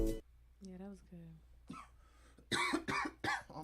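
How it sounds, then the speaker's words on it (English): A person coughs several times in quick, harsh bursts near the end, after some softer throat and vocal sounds in a quiet room. "I'm sick of coughing, yo."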